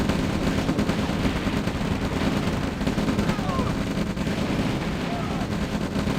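Distant gunfire and rocket launches from a V2 launcher and infantry in the Red Alert strategy game, a dense continuous rumble of shots and blasts heard at moderate level.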